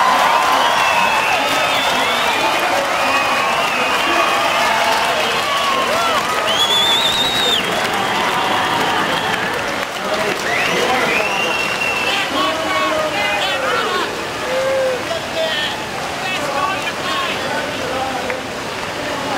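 A large beach crowd roars and cheers for surfing champion Matt Wilkinson at the Quiksilver Pro Gold Coast 2016 final, a dense, steady wash of cheering, clapping and whistles heard from a distance.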